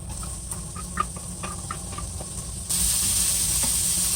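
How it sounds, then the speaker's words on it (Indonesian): Onion sizzling in hot oil in a pan for Indonesian-style spaghetti tomato sauce, a steady frying hiss with soft crackles that swells sharply louder partway through, with no voices. "Tetap digoreng-goreng bersama hingga terasa bau harum."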